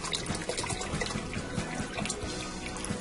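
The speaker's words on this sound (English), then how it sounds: "I'm going to add in a 32-ounce box of chicken broth." A 32-ounce box of chicken broth pours into a pot for chicken vegetable soup, a quiet, continuous trickle and splash of liquid with small gurgles, close by.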